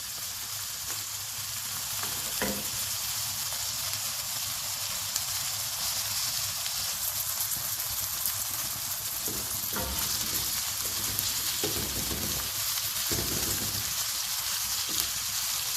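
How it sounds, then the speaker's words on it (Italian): Onion and a whole garlic clove fry in a pan with a constant, bright hissing sizzle that holds moderately loud and unbroken for a long stretch, with a few faint clinks and no voices. "Ora in padella verso cipolla e aglio intero."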